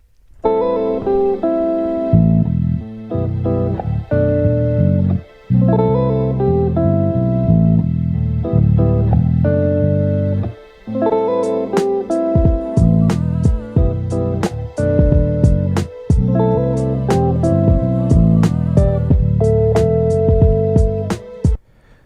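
A synthesized music beat plays loudly with layered tones and pauses; sharp percussive hits join in partway through, driving a steady rhythm.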